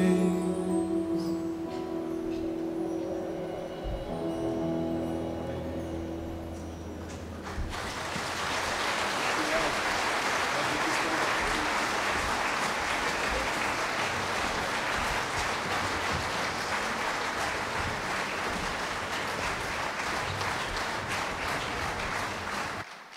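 An audience at a 2014 concert applauds after a song, with dense, steady clapping that starts abruptly after a few seconds of quieter room sound and carries on loud and even for a long stretch.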